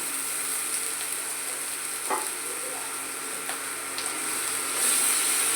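Spiced, mashed boiled cauliflower sizzles softly in a pan as it is sautéed for cauliflower kofta, a steady faint frying hiss with a few light scraping ticks.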